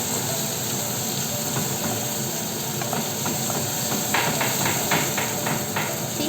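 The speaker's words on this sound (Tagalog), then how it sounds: "Tignan natin guys yung ginigisa niya at baka masunog" Chopped sponge gourd sautéing in a pan for a curry, with a steady loud sizzle and hiss, and a run of rapid tapping clicks from the spatula near the end.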